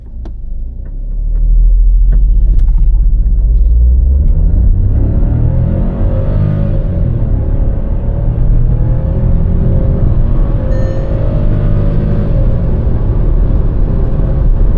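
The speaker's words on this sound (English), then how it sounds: "Now let's launch the car, putting it into a sport mode." Volkswagen Taigun 1.0 TSI turbo petrol automatic launching hard in sport mode, a loud sustained engine roar that swells as the SUV accelerates and holds steady, heard close from inside with no talk.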